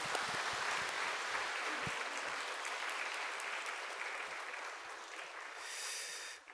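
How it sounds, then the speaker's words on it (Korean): A church congregation at a Sunday service bursts into sustained, dense applause that fills the room, holding steady before swelling briefly and stopping at the end. "우리 축복하며 박수 한번 더 하겠습니다"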